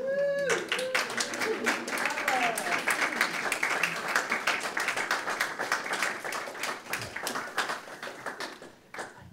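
A library audience at a poetry walk event applauds with dense, steady clapping that fills the room for several seconds before thinning to scattered claps, with a voice briefly heard at the start.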